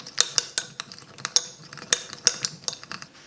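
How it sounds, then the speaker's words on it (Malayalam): A spoon works a Fair and Lovely cream and tomato face mixture in a small bowl, giving quick, irregular metallic clinks and taps close by, about a dozen in a few seconds, with no talking. "ഇനി ഇത് ശരിക്കും ഒന്ന് മിക്സ് ചെയ്യാം."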